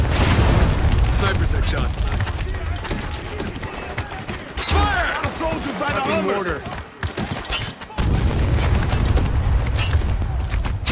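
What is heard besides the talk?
mortar fire explosions in video game Spec Ops: The Line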